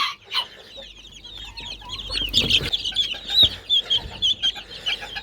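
Young chicks cheep in a rapid, high-pitched chorus, close and continuous, with a few louder peeps and light handling rustles and bumps nearby.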